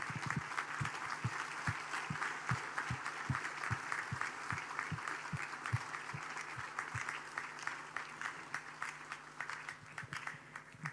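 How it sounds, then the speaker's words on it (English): Delegates at a church bishops' conference in Nairobi stand and applaud, giving steady, sustained clapping that fills the hall throughout. "May I ask all the delegates, we stand up and give them a loud applause."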